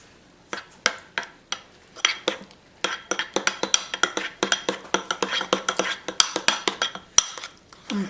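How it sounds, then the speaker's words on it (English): A spoon stirs blueberry powder into a banana mango smoothie in a bowl, making quick, steady clinks and scrapes against the bowl that pick up into a fast, busy rhythm, close and fairly loud with no talking. "So grab a bowl there and just sprinkle a little in and stir it up."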